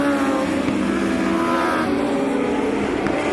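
Racing motorcycles roar through the final lap of the 101st Loudon Classic, a loud, continuous engine drone that rises and falls slightly as the bikes pass, with no voices.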